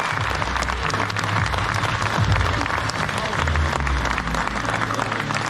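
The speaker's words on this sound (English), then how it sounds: "So big round of applause to Giants for making this happen." Audience applause at a Farming Simulator community stage event at Lamma 2024, steady dense clapping from a crowd filling the whole stretch, loud and even throughout.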